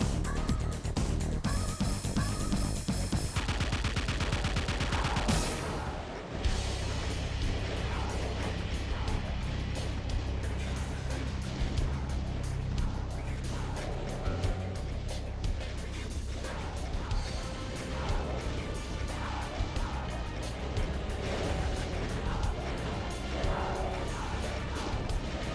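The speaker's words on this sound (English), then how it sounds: "Run back to this side and keep rocketing the Hell Knights." Rocket launcher fire aimed at Hell Knights in Doom booms loud and repeatedly, blasts and explosions overlapping in a constant, busy roar through the whole stretch, with one brief break midway.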